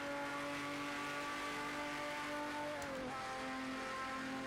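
A Porsche race car in Project CARS 2 accelerates with a sustained high engine drone that climbs in pitch and shifts once near the end, steady and loud with no talk.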